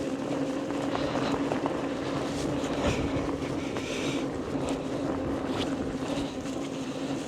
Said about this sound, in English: Let's see if we can go through this mud puddle.